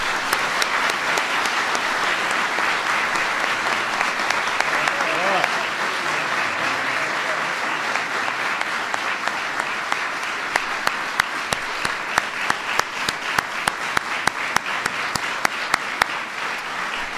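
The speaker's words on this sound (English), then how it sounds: "Give them a big round of applause." White House audience applauding the visiting Los Angeles Lakers, a long sustained wave of clapping that stays full and even, with individual sharp claps standing out toward the end.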